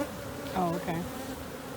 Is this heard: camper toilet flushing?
no